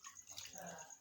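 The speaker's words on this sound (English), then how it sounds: "I'm washing my pork now" Water splashing and trickling in a pot as pork is washed by hand, close and fairly quiet, with soft sloshing and dripping.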